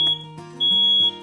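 A smoke alarm gives its button-press test signal: loud, piercing electronic beeps in short bursts, close by and with no voices.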